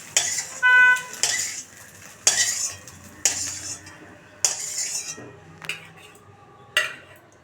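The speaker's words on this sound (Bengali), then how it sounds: "আমার ডিম ভাজা হয়ে গেছে, আমি এখন ডিমটা তুলে নেব" A fried egg is lifted out of a pan onto a plate with a metal spatula. Sharp scrapes and clinks come at irregular intervals, close and fairly loud.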